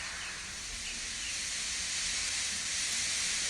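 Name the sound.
steam hiss from a steam engine in a Thomas story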